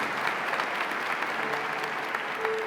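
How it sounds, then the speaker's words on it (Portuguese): A church congregation at Mass applauds after the Scripture reading, a steady, even wash of clapping from many hands for under three seconds, heard from a distance. "Aplaudamos a palavra de Deus, a Sagrada Escritura, que aqui acabamos de ouvir"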